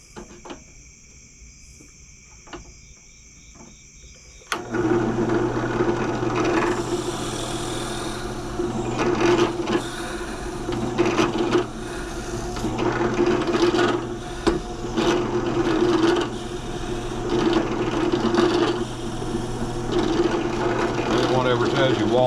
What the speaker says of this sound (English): get the little drill press plugged up